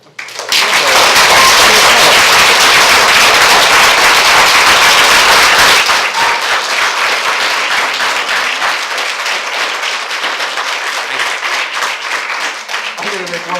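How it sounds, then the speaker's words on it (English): Loud, dense applause from a town council meeting audience swells quickly and holds strong for about six seconds, then eases into steadier, thinner clapping that continues to the end. "I get the clapping."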